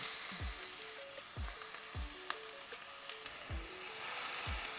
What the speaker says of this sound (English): Give it a good mix and fry the onion till they are translucent and soft